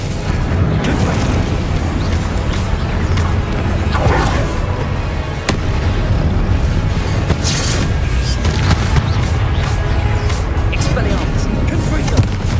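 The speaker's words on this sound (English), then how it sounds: "Confringo! Incendio! Protego! Expelliarmus! Confringo!" Spell blasts from the Hogwarts Legacy video game, Confringo and Incendio, come as a dense run of booming, bursting impacts over continuous loud game sound, with a voice calling out spell names throughout.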